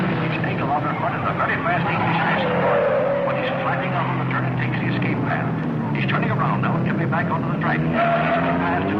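Race cars from a 1954 film roar around a track in a continuous, loud engine drone with shifting pitch, under a commentator's steady spoken narration.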